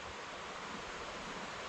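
Stream water rushing steadily below a steep wooded trail at Climbers Run Nature Preserve in Pequea, Pennsylvania, a constant broadband wash heard from a distance with no talking.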